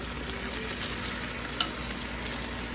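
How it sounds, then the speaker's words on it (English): Pieces of steak for a pepper steak and broccoli stir fry fry in a skillet, giving a steady, close hiss of sizzling with a faint tick partway through. "Take them out, put them on the skillet, and let them get brown"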